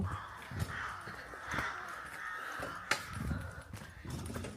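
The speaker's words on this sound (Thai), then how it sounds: "อีกา" A crow caws a few times in woodland near Newcastle, the harsh calls standing out against a soft background of ambient noise.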